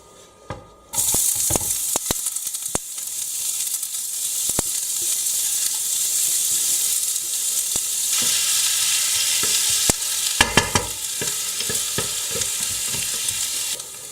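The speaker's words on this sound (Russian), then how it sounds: "Отправляем лук в сковороду, в которой жарились наши баклажаны." Oil bursts into a loud, steady sizzle as onion hits a hot pan just used for frying eggplant, with occasional scraping and stirring clatter over the frying.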